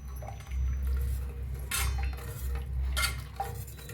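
A spoon stirs egg masala curry in a metal pan close up, making repeated scraping clinks and soft liquid sloshing in an uneven rhythm, with no talking.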